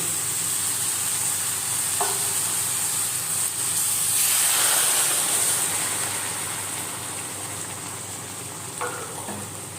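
Cooked vegetables hiss and sizzle loudly in a hot pan as hot water is poured in. The steady frying noise swells into a steamy rush midway, then eases slightly, close and continuous with no talking.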